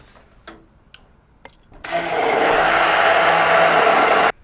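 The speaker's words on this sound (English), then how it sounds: "Blend it until smooth" A KitchenAid blender whirs steadily as it blends pizza sauce ingredients with extra virgin olive oil and salt, starting abruptly after a few light knocks and running loud and continuous until it cuts off.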